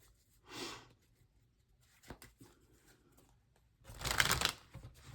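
Tarot cards being shuffled by hand in two bursts of riffling, a short one near the start and a louder, longer flurry near the end, with soft handling clicks between them.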